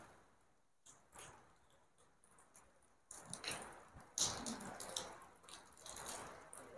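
Heavy rain falls outdoors at a Dutch colonial house. A soft, irregular patter and splashing of drips rises in density and grows louder partway through, with no voices present.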